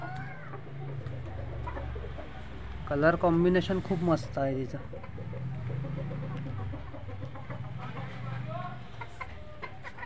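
Gavrani native-breed chickens and roosters clucking in a yard, with soft repeated clucks and a louder burst of calls midway, while someone talks over them close by.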